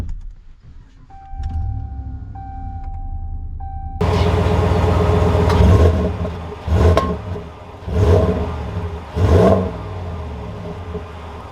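A Ram 1500 Limited pickup with a 5.7-litre Hemi V8 speeds up, its loud engine drone rising after a quiet start, with several surging pulses of revving close by.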